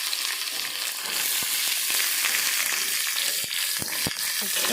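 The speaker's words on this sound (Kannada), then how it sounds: "ಮೆಣಸಿನ್ಕಾಯಿ ನೋಡಿರಿ ಎಲ್ಲ ಹುರ್ಕೈತಿ" Green chillies and onion fry in a pan, giving a dense, continuous sizzle with occasional scraping stirs throughout, no voices.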